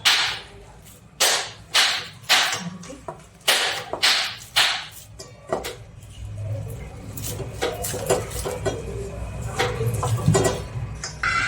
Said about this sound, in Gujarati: હવે આપણે બટેકા ફોલીને તૈયાર કર્યા છે તો આપણે એને મિક્સ કરી લઈશું